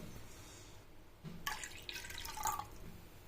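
A brief, quiet trickle of water runs into a cooking pan for about a second, then stops.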